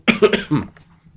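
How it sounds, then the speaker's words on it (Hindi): A short burst of several rough coughs from one person, close to the microphone, fading into quiet. "अगर जानो तो मैं थोड़ा सा खांस लूँ"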